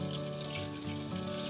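Brown butter bubbling in a pan as its water cooks off, a dense steady crackle and fizz close up, with a constant low hum beneath and no talking.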